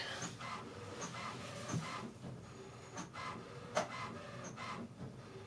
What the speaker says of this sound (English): It's printing, but it sounds weird.